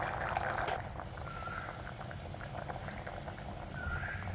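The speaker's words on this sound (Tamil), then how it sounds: "இப்போ குழம்பு கொதிச்சிச்சு நம்ம கருவேப்பிலை இற போட்டு இறக்கிற வேண்டியதான்" A pot of turtle bean and eggplant curry boiling on the stove, a steady close bubbling with popping bursts, continuous and alone.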